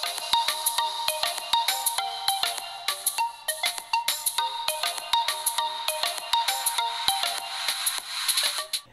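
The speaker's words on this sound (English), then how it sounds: "You won't want to listen to anything off the single downward firing mono speaker though," Audio from the single downward-firing mono speaker of an LG Q7+ phone: a thin, bright, repeated ringtone-like melody of sharp, rhythmic notes that runs steadily without talk.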